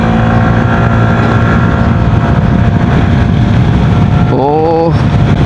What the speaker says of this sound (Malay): Dan kita tengok macam mana pemergian skuter ini.